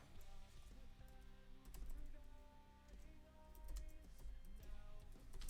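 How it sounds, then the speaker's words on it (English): Typing on a computer keyboard: faint, quick, irregular key clicks in a quiet room, with a low hum in the background. "I'm trying to type something at the same time"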